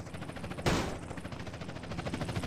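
A single sharp gunshot bursts out in GTA San Andreas amid a rapid rhythmic clatter of game noise, loud and close with no voices.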